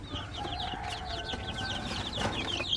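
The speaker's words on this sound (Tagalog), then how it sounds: "yung mga labuyo na sisiw" Red junglefowl chicks, labuyo, cheep and cluck constantly in a crowded group, dense high-pitched peeping close by with small rustles underneath.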